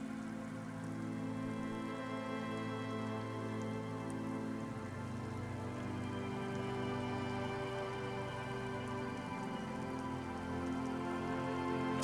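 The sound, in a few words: rain and coastal breeze in video game Disco Elysium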